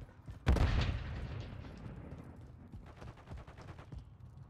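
Gunfire and a grenade blast in a Call of Duty game, with a sharp loud boom near the start followed by a decaying rumble and scattered, fainter shots in the distance.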